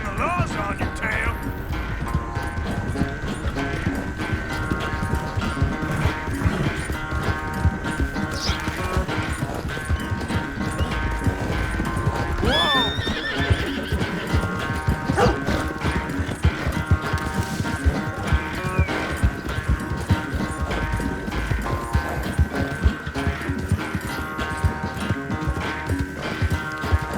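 A horse gallops in Red Dead Redemption 2, its hoofbeats a steady, close, rapid clatter that runs the whole stretch, with people talking over the ride and a brief whinny midway.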